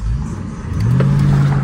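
A car drives and accelerates on the road as a low engine rumble rises steadily in pitch, heard up close from inside the cabin.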